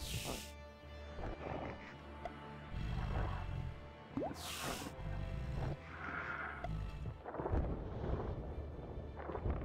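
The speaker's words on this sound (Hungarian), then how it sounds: "Én megint nem tudok ellenállni itt a jó kis villámlásnak" Thunder from lightning in a video game: low rumbling booms roll and swell across the whole stretch, joined by a couple of sharp crackling strikes, while a voice talks over them.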